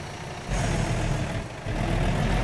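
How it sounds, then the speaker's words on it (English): A Volvo-engined truck with a Volvo transmission idles in the game American Truck Simulator, a steady low rumble that steps up in loudness partway through and holds, with no talking. "Truck's running a Volvo engine and a Volvo transmission today."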